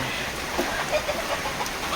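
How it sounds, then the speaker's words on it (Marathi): Hens in a poultry shed give scattered soft clucks against a dense hiss of rain falling on the roof. "आता इथे तुम्हाला कोंबड्या दिसत आहेत सर्व"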